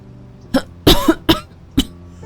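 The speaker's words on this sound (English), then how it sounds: "I choke and can't stop coughing after." Four harsh, abrupt coughs after choking, a short burst, then a heavier double cough and a last single one, close and loud with brief gaps of quiet between.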